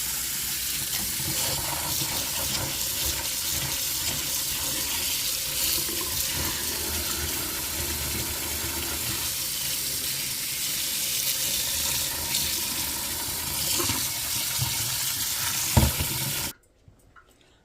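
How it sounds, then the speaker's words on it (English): Tap water running steadily into a sink while a cup of wild rice blend is rinsed, a continuous close splashing rush that stops abruptly at the end, with no talking. "let's go ahead and rinse our rice"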